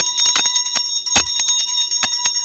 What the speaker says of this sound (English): Ringing the bell.